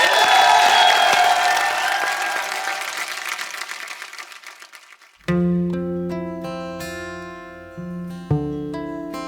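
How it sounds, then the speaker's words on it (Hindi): A studio audience on a comedy show applauds and cheers for a playback singer as a dense wave of clapping that fades over about five seconds, then keyboard music with sustained notes begins. "जोरदार तालियां।"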